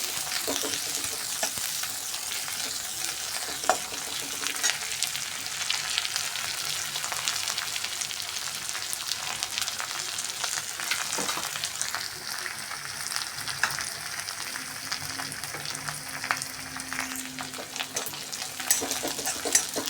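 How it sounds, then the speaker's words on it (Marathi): Cumin, curry leaves and onion frying in hot oil for a dhaba-style veg Maratha curry, a continuous bright sizzle with occasional scrapes of stirring, close and steady throughout with no talk. "जिरं पण छान असं तेलावर परतवून घ्यायचं."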